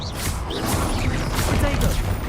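Spell blasts and explosive impacts from the Confringo fireball in the video game Hogwarts Legacy, a dense run of booming bursts over continuous game noise and music, loud and close throughout.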